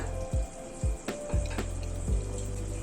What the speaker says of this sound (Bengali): ফুটে উঠলো গ্রেভিটা